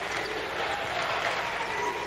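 A basketball arena crowd at a Wright State Raiders men's game against the Milwaukee Panthers cheers and claps loudly in a dense, continuous roar, with voices mixed into the noise.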